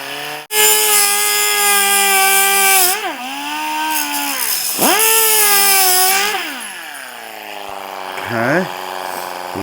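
An air-powered cutoff tool trims metal during a garage air compressor repair, letting out a loud, continuous high whine whose pitch dips and recovers several times as it bites into the workpiece.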